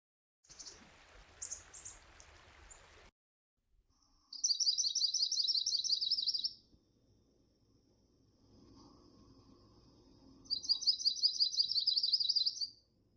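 Yellow-rumped warbler, a North American winter warbler, gives two clear high trilled bursts of calls a few seconds apart, loud and close, with a short burst of other faint chirps at the start and quiet background between.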